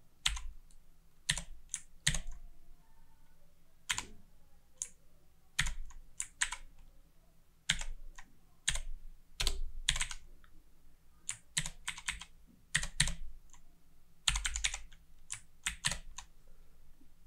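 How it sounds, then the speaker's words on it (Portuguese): Keystrokes on a computer keyboard, close and clear, arriving in short irregular clusters separated by pauses, with a faint steady hum underneath and no talking. "digitei e dei enter"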